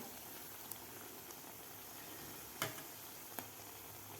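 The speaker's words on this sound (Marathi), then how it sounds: "आता आपल्याला व्यवस्थित गोल्डन कलर होईपर्यंत आपल्याला ही बालुशाही तळून घ्यायची आहे" Balushahi pastries deep-frying gently in oil over a low flame, giving a quiet, steady bubbling sizzle with a few faint pops, heard alone with no talking.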